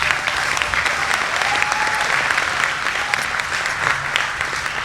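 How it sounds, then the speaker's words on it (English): Audience at a sheriff's office service awards dinner gives a sustained round of applause, dense steady clapping filling the room from start to end with a faint murmur of crowd underneath. "How about another round of applause for our 35-year employee, Bobby Lillard, and all of our service award recipients tonight."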